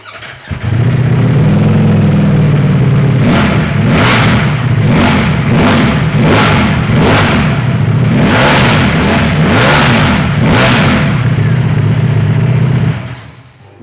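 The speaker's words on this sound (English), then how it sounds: "if you want to hear what the world's fastest and most powerful production motorbike sounds like, it's 224 brake horsepower" A 224-horsepower production motorbike, billed as the world's fastest and most powerful, revs loudly and close up in a run of sharp throttle blips over a steady idle, then cuts off near the end.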